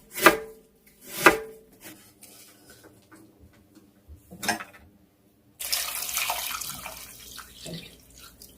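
A knife cuts radish into thin julienne strips on a cutting board, two sharp chops early on and a fainter one later, followed by a burst of running water that continues to the end.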